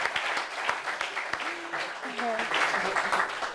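A studio audience on a French talk show claps briefly and fairly quietly, with scattered hand claps mixed under voices talking over the applause.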